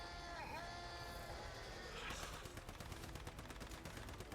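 Gunfire in the survival shooter Once Human, played on hard mode: after some tonal game sounds, a rapid train of sharp, evenly spaced shots rattles on for a couple of seconds, fairly close and steady.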